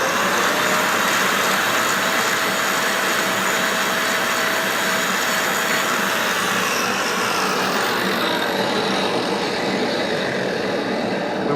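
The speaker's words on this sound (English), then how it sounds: "I want to take and grab my grinder and clean this up a little bit" A grinder works over a steel touchmark stamp, a loud, continuous, close whine and hiss holding steady for about eleven seconds with no pauses.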